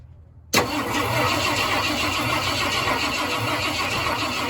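A 1972 Ford F-100 pickup that sat unused for over ten years, its engine cranked by a jumpered starter solenoid, kicks in abruptly after a brief silence and runs on as a steady, loud, continuous churn with no talk over it.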